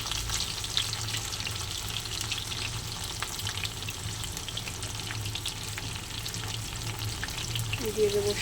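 Sliced pointed gourd sizzling in hot oil in a pan, a steady dense crackle with occasional stirring scrapes, close and continuous without talk.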